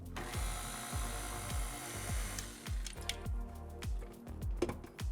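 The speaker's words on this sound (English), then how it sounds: "I'm gonna use the paddle attachment to just get this mixed together." A stand mixer with a paddle attachment churns flour and salt, giving a quiet, rhythmic whirring with repeated low thumps about twice a second, close and steady with no talking.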